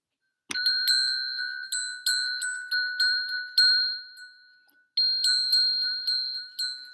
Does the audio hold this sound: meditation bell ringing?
yes